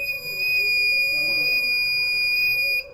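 Shrill, steady electronic alarm tone from a water quality monitoring device, loud and close, holding for nearly three seconds before cutting off abruptly.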